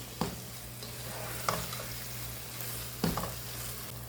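Minced meat keema frying with red bell pepper in a pan: a steady low sizzle with three distinct spatula scrapes spaced about a second and a half apart, close and fairly quiet, no talking.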